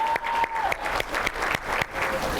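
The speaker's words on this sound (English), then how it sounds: "Give Carlo a round of applause, doing a great job." An audience at a business seminar breaks into steady applause, many hands clapping together in a dense, sustained roar heard from within the room, with a faint tone running beneath.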